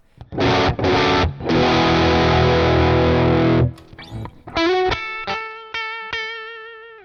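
Electric guitar through an EHX Germanium Overdrive pedal gives a loud, cranked-amp crunch as a few chords ring for several seconds, then cut off before sparse single notes pick out and decay.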